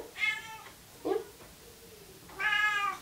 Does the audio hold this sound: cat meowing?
yes